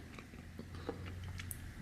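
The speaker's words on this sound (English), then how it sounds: "Let me take a bite of it." A bite into a crumbly vegan date ball followed by close, soft chewing with a few faint crunchy clicks over a quiet background.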